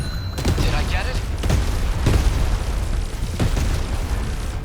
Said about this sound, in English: the explosions of the drum mines